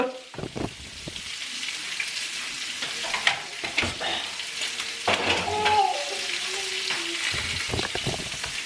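Jamaican-style oxtail sizzling and frying in a pot, with a steady close sizzle and occasional stirring clatter running throughout, along with a few louder knocks and scrapes.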